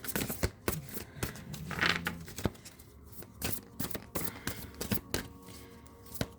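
Tarot cards being shuffled by hand in a quiet room, a run of crisp flicking riffles and soft taps with one brief louder burst of cascading cards partway through; no voices.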